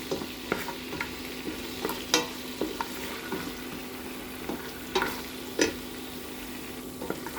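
Ingredients for chicken kabsa fry in a pot with a steady low sizzle, broken by irregular scraping and clinking stirs every second or so, close and moderately loud.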